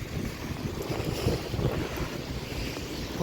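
Strong cyclone wind during a storm in Kharkiv, roaring steadily as broadband noise with heavy gusting rumble buffeting the microphone throughout, no voices.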